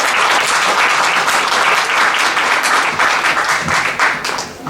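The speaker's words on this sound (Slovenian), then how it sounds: "Ja, to je že mogoče razlog za aplavz." An audience at a talk on personality disorders breaks into loud, sustained applause, a dense wash of clapping that fills the whole stretch and eases slightly near the end.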